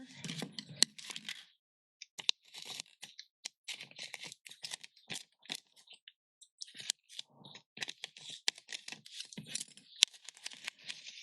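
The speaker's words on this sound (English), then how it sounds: "I'm going to trim this. Make it easier to place in here." Scissors trimming a thin vinyl label sheet, a series of quick, crisp snips and soft paper rustles in irregular bursts with short pauses, close and quiet.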